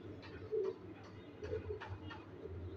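Large pigeons coo softly at close range in a few short, low bursts against a quiet background.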